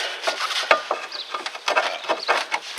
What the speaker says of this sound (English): Take this strut, pull this down, and just kind of wiggle this in here like this